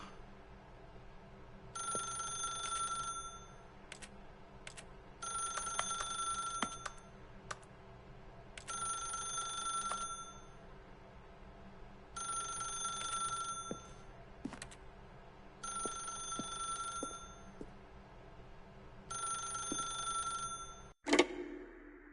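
A telephone rings in The Stanley Parable: Ultra Deluxe on PS5, six steady bursts of bright electronic ringing spaced evenly apart, ending with a sharp click as the receiver is lifted.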